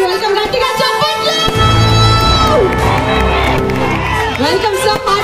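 A large crowd cheers, whistles and shouts at a film promotional event in Nizamabad as a producer is welcomed onstage, the loud, continuous roar layered with music and a voice over the noise.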